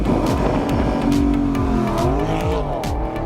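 Porsche sports cars, including Cayman and Boxster GTS models, driven hard on a race track, with loud engines revving and tires squealing through corners, continuous and close.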